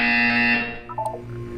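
A buzzer sounds in the video game Portal 2 during a fitness exercise, a loud harsh tonal blare lasting about half a second, followed by softer electronic tones fading out.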